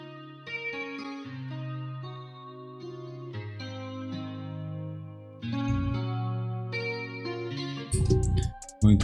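A melodic guitar line in FL Studio 20 with a sweeping, swirling Fruity Flangus flanger effect, sustained notes shimmering and phasing, ending with a brief burst of noisier sound.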